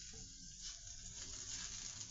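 Pancakes fry in butter in a hot pan, a steady broadband sizzle that holds at an even level for about two seconds with no voices over it.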